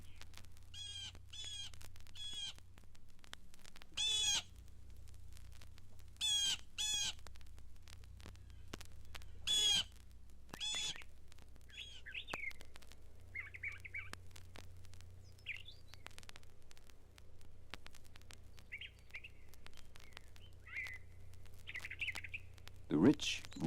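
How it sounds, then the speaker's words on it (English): Blue jay gives a scattered series of harsh, clipped calls at a mountain lake bird sanctuary, moderately distant and quiet, with other birds chirping and faint hum in the background. "The jay makes sure it's heard, though."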